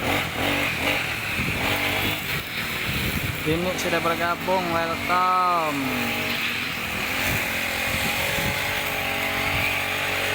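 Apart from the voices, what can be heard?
grass cutting machine running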